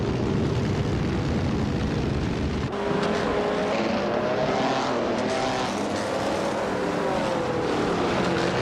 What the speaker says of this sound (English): Betherylene is driving a 1938 Maserati 8 CTF, and is currently in 4th place